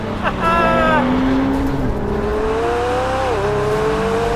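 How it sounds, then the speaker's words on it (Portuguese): A McLaren 720S V8 accelerates hard, its engine note climbing steeply, then dropping at a gear change before climbing again. The sound is loud and close, as if heard from inside the car. "Começamos só agora é que nós começamos a animar este V8"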